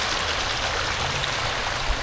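Steady broadband rush of water from a garden waterfall pouring off a rock, a continuous even wash with no talk over it.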